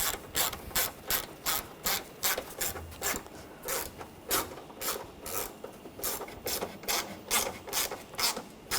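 A ratchet snugs down ignition coil bolts on a 2013-2019 Ford Escape engine, clicking in quick repeated bursts of strokes, close and clear with no talking.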